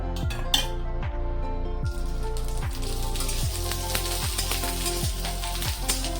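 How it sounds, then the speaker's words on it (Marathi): Garlic frying in oil in a pan for curry leaf chutney, a steady dense sizzle with crackling pops and occasional utensil taps throughout, close and loud. "लसूण चांगला ब्राऊन होईपर्यंत भाजून घेणार आहे जरा।"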